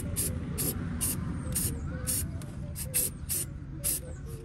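Short bursts of aerosol spray paint hiss repeatedly, about ten quick blasts of cheap paint onto car audio parts near the chassis, heard over a low background hum.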